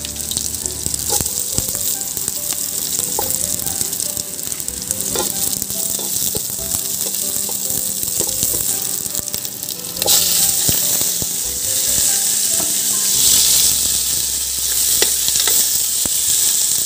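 Pork sizzles and crackles in a hot pan while a utensil scrapes and stirs it, with clinks and shifting sizzle throughout and a brighter burst of frying partway through, close and loud, with no talking.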